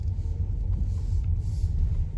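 Steady low rumble of a car rolling along the road, heard from inside the cabin as a continuous engine and tire drone with no talk.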